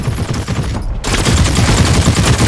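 Rapid bursts of automatic gunfire in the shooter game The Cycle: Frontier, loud and dense, with a brief gap before a sustained close volley of shots.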